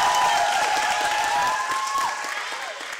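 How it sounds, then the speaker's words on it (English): An audience welcoming a poet and tattoo artist to the stage, heard as loud, steady applause with some cheering that fades a little toward the end, and a voice speaking over it near the start. "please clap your hands to welcome Kosal Khiev."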